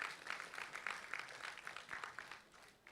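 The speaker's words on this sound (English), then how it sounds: "I think students, we should give a big round of applause to your parents who are here." Students at a liberal arts certification ceremony applaud their parents, a faint, distant patter of clapping hands in an uneven rhythm, heard alone.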